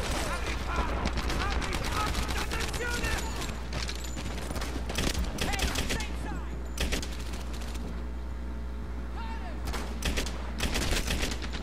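Dense, nonstop bursts of rifle and machine-gun fire from the shooter game Medal of Honor Airborne, with sharp cracks layered over a steady rumble and someone talking over the gunfire.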